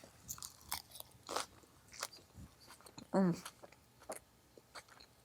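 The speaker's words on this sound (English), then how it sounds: "let me chew this and then be back in a second" Someone bites and chews a big mouthful of Niçoise salad greens close to the mic, with crisp crunches and wet chewing sounds in a quiet room.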